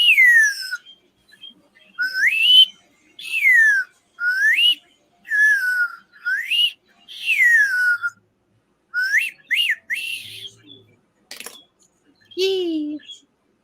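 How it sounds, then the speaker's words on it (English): A slide whistle played in a string of quick swooping glides, each pitch bending up or down, loud and close with short gaps, then a few brief chirps and a low sliding note at the end. "No, it's a slide whistle."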